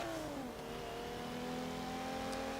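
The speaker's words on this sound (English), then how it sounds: "It just screams all the way up to the rev limit." An early-90s car in Forza Horizon 3 revs hard toward its rev limit, the engine note rising and then holding at a steady high scream, loud and close with no talk.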